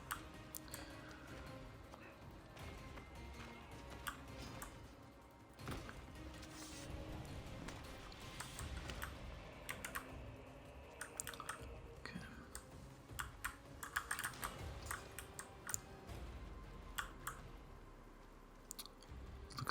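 Computer keyboard keys are tapped in quick, irregular bursts of soft clicks while Assassin's Creed Odyssey is played. The sound is close and quiet, with faint mouse-like ticks between the bursts.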